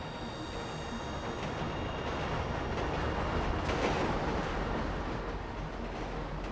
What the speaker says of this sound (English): The train's stopping.